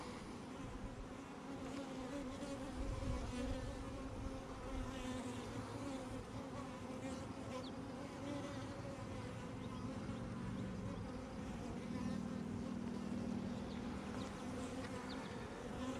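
Honey bees swarm-buzzing inside an opened, nectar-heavy hive that has recently swarmed and holds a new queen, a dense steady drone filling the whole span at close range with no voices.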